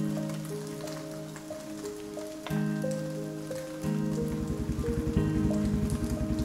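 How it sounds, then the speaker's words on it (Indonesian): Heavy rain falls in a soft continuous wash beneath a prominent melodic music line that grows fuller partway through. "Hujan makin deras."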